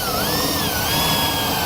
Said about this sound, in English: Self-tapping screw that comes in your kit. Put it right in place.